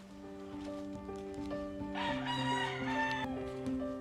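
Roosters of an early bird chicken breed crow in long, clear calls with a stacked harmonic tone, one crow overlapping another, close by with no talking.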